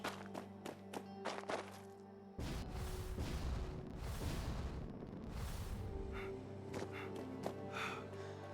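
Grenade explosion in the video game Fallout 76: a sudden heavy boom partway through, followed by a long rumbling roar that fades over several seconds, with faint game clicks and ambient tones around it.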